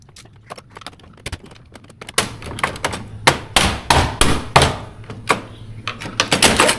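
A security door lock is knocked out with repeated sharp metallic taps and thuds, irregular at first then quickening into a dense run of loud close strikes.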